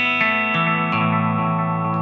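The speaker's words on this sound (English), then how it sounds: "so it acts very nicely as an echo pedal just on its own" Electric guitar through a Tom'sLine APE3S delay pedal in echo mode, a few strummed chords ringing with repeats that trail off behind each new strum, loud and close with no voices.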